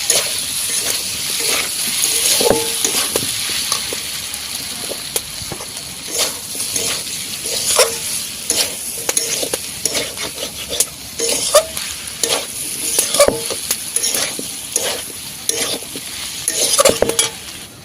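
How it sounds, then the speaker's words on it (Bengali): Chili and turmeric sauté in oil for a spinach dalna, producing a loud, close, constant sizzle overlaid with frequent rhythmic scraping and clinking of a spatula stirring the pan, without any speech. "এই যে আছে লঙ্কা হলুদটা দিয়ে দিলাম, মশলাটা কষানো যাচ্ছে।"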